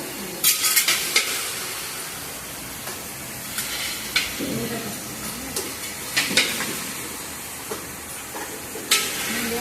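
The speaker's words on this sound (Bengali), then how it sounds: "মশলা দেওয়া হচ্ছে, মশলা দিয়ে কষিয়ে দেওয়া হবে।" Spices and turmeric fry in hot oil in a pan with a steady sizzle, and a spoon scrapes and clinks against the metal in repeated stirring strokes close by, with no talking.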